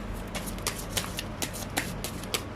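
Tarot cards are shuffled up close in quick, papery riffles and soft slaps that repeat steadily over a couple of seconds, with no voice heard.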